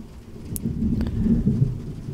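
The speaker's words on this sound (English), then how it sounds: "Yes, the thunder, of course," Low rumbling thunder from a thunderstorm rolls steadily through the whole stretch, with a soft wash of rain and a brief brighter crackle partway in, heard alone without talk.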